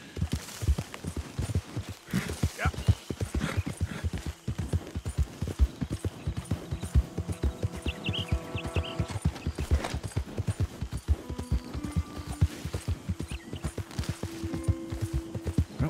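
Horse hooves clip-clop steadily and rhythmically throughout in Red Dead Redemption, with game music and sound effects beneath.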